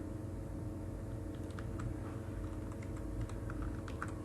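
Someone types HTML code on a computer keyboard, with quick, irregular key clicks close to the microphone over a steady low background hum.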